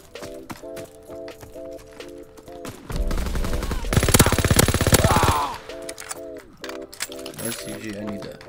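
Video game gunfire with heavy recoil: bursts of rapid automatic shots, a sustained loud volley in the middle, then more short bursts over repeated electronic beeping tones, close and loud, with someone talking over it.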